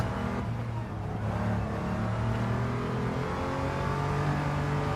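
An Audi TT VR6 race car in Gran Turismo 7 holds a sustained engine drone near full throttle, the pitch climbing gradually through the stretch with no talk over it.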